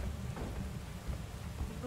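Rain hisses steadily in the video game Deep Rock Galactic, with a dull low rumble of thunder underneath, faint and continuous without talk.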